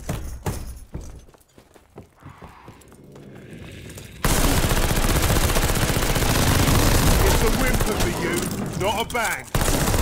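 Sustained automatic gunfire from Call of Duty: Vanguard Zombies, a dense, loud burst of rapid shots that runs unbroken for several seconds after an opening stretch of scattered impacts and footsteps.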